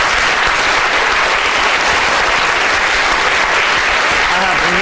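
A magic show audience breaks into loud, sustained applause after a cups-and-balls trick, with close, thick clapping running unbroken from start to finish.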